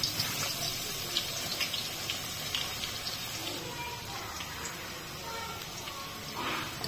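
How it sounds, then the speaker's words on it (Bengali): Chopped garlic frying in two cups of hot soybean oil for a Chittagong dried-shrimp balachao, a steady broadband sizzle and crackle that holds fairly loud and even throughout without talk. "তেল গরম হয়ে আসলে দিয়ে দিব কেটে রাখা রসুন কুচি।"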